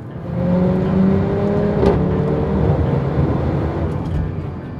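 A 2014 Mercedes-Benz A45 AMG with its 2.0-litre 460 hp turbo engine pulls hard under acceleration, a steady close droning engine note rising slightly in pitch, heard from inside the car with no talking.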